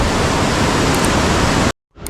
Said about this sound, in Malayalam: താഴെ നല്ല വെള്ളത്തിൻ്റെ സൗണ്ടായിട്ട് ഞാൻ മേളിലേക്ക് കയറി